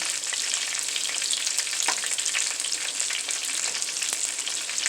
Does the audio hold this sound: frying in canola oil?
yes